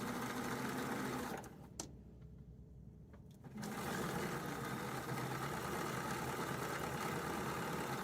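Sewing machine stitching a snowman table topper, a continuous mechanical hum that stops for about two seconds mid-run and then resumes at the same steady pace.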